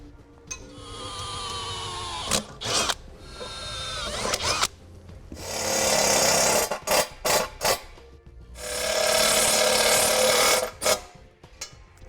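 A power drill with a regular bit, then self-tapping screws, bores into a vehicle bumper during transmission cooler mounting, whining in several bursts of rising and falling pitch, separated by short pauses and clicks.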